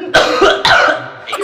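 Coughing from a man, in several harsh, throaty bursts close to the mic, with a short pause between the two main fits and a softer trailing cough at the end.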